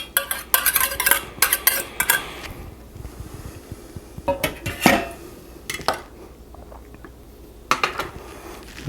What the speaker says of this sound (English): Now, we'll go ahead and add in our wet mix of our egg, sour cream, and vanilla. Get that incorporated in there.